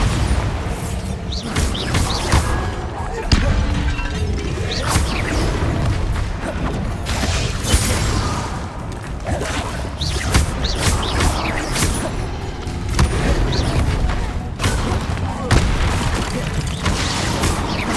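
Bombarda spell explosions in Hogwarts Legacy during a combat side quest, heard as a long run of loud booms, bursts and crashes spaced every few seconds amid continuous battle noise, with almost no talk.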